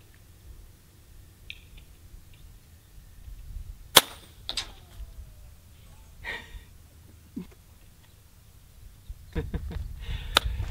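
A sharp, loud crack from an FX Impact air rifle shot at a Budweiser can, followed by a brief metallic ring. Later come a few softer clicks and handling noises, then a louder burst of clatter near the end over low background rumble.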